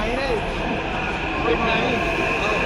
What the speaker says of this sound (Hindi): तो ये आसीगला मेट्रो।